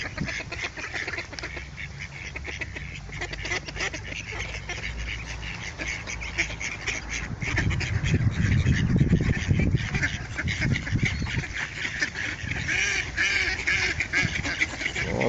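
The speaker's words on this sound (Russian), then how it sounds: "Такие звуки издают, кря-кря." Many wild ducks quack and chatter continuously while being fed by hand outdoors, a busy layered flock sound that swells louder midway, with faint voices now and then.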